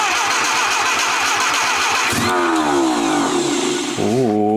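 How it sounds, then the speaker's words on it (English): An old junkyard Willys engine is turned over by its starter with a fast rhythmic cranking, then catches and fires with a loud rising roar, dips, and surges again, heard close and alone. "So it keeps firing and kicking the starter out."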